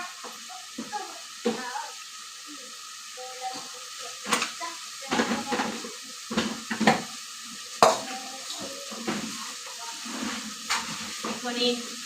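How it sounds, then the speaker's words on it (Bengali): Spice paste sautés in a pan for a fish curry with sponge gourd and jackfruit seeds, heard as intermittent sizzling bursts and spatula scrapes at close range, with quiet gaps and some voice between the stirring strokes. "মশলাটা কষিয়ে নিলাম"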